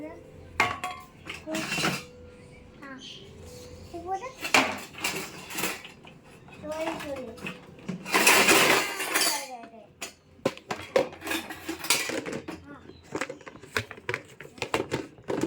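Spoons and plates are handled and put away in a home kitchen, with repeated close clinks and clatters of metal cutlery and dishes coming in irregular bursts while people talk nearby.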